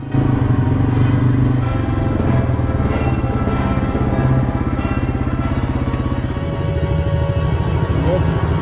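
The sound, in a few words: Yamaha TT-R110 dirt bikes riding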